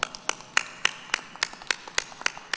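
A small audience at a policy roundtable with a senator claps in a steady, fairly even rhythm of sharp, close hand claps, about four per second, with no voices over it.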